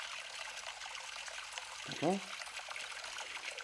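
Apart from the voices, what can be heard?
AI-generated sound effect of a flowing river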